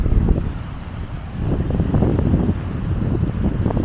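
Wind gusts buffet the microphone on a wet pedestrian street, Storgata in Tromsø, Norway, as a steady low rumbling roar that swells and eases without pause.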